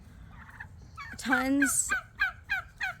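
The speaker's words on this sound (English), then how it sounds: "If you hear noises, my turkeys are coming over to me" Pet turkeys gobbling close by: one long rippling gobble followed by several shorter, rhythmic gobbles, loud and near, with a brief spoken word from a person.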